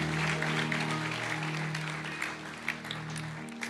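A church congregation applauding: a dense wash of clapping that is loudest at first and then thins a little, heard from within the room, with a faint sustained tone beneath and no clear speech.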